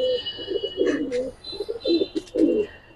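Giribaz pigeons coo close by in soft, throaty bursts, several rolling calls in quick succession over a few seconds, with faint higher chirps mixed in.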